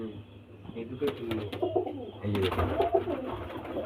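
Fulshira pigeons at a pigeon sale give soft, repeated coos, close by and low, with someone talking over them and some background noise.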